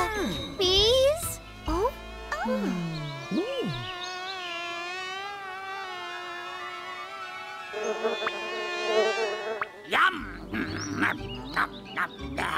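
Cartoon bees give off a wavering, musical buzz that rises and falls, with cartoon voices and playful sound effects around it.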